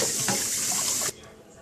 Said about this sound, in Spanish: Primero necesitas lavar las fresas con agua caliente